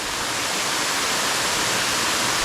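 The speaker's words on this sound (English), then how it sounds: "This is the first waterfall." A waterfall in St. Vincent and the Grenadines rushes with a loud, dense, unbroken roar of falling water, close by and steady throughout with no other sounds.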